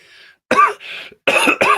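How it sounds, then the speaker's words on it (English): Four short, raspy coughs close to the mic, coming in two pairs separated by brief pauses, with no talking around them. "I've still got this cough"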